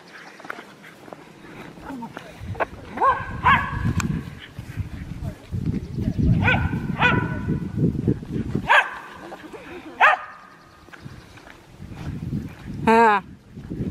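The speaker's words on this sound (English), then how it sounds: "Here come the doggies." Dogs approaching on a nature walk, with scattered barks and yelps over footsteps and rustling, a few loud close barks amid intermittent nearby talking.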